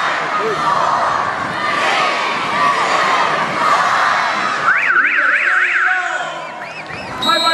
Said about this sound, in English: You heard the siren go.